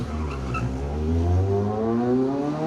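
A rally car drifts round an asphalt hairpin, its engine revving hard and rising in pitch as it powers out of the bend, loud and close.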